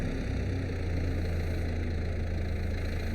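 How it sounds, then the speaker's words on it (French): Small Kubota tractor engine in Farming Simulator 22 idling with a steady, low, even hum, alone and fairly quiet. "Le tracteur, nous sommes avec un tout petit Kubota"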